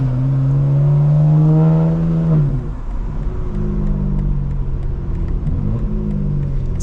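A 2025 BMW M4 Competition rolls over a rough road, its engine drone and tyre rumble steady and close; a loud rising engine note fades after a couple of seconds into continuous road noise with thumps.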